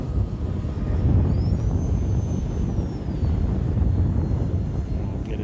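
An E-flite Turbo Timber Evolution RC plane flying in gusty wind, its faint high motor whine sweeping past at a distance beneath steady roaring wind buffeting the microphone.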